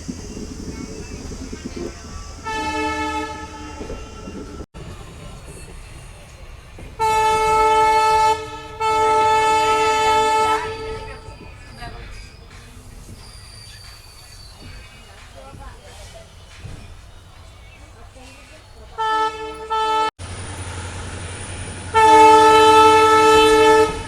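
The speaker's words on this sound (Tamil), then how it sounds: "நம்ம ட்ரெயினை பார்த்தீங்கன்னா ஒரு 40 நிமிஷம் டிலேயோட மைசூர் ஜங்ஷன்லேருந்து டிபார்ட் பண்ணிட்டாங்க" Tirupathi to Chamarajanagar Express running near Mysore, a loud horn sounding in several long blasts over the steady rumble and rattle of the moving train.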